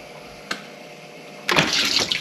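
Water rushes into a dishwasher through its opened inlet valve, a single sharp click followed by a sudden, steady hiss and splash of flow, close and fairly loud.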